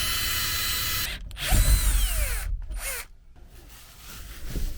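Power drill boring holes through a van roof, starting at the corners for a 12V air conditioner install, heard as loud grinding bursts with brief pauses between.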